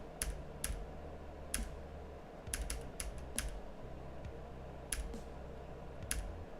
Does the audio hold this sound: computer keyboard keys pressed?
yes